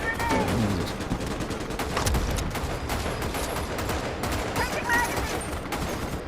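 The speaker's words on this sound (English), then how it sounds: "So you have the MG emplacements, so people can go crazy on that." A machine gun emplacement in the video game Starship Troopers: Extermination fires amid dense, continuous gunfire, with rapid overlapping shots and crackling bursts throughout a busy battle soundscape.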